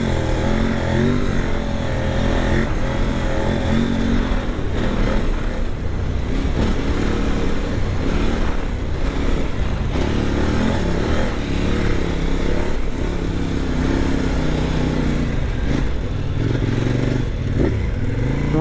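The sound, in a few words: KOVE 800 Adventure motorcycle engine while riding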